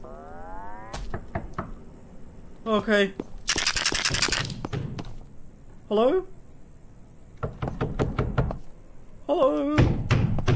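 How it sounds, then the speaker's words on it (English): Knocking at a door in the horror game Tattletail, a run of hard, close thunks in short bursts, mixed in with a voice calling out and other game noises. "Someone's knocking at the door."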